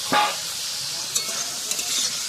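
Flat beans are stirred and fried in spice paste and oil in a pan over a wood-fired stove, a steady loud sizzle with a sharp scrape at the start and a few light stirring knocks.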